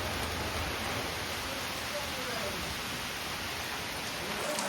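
Monsoon rain in Konkan, dripping and pattering steadily as a dense, even hiss with no distinct individual drops; a faint voice murmurs beneath it.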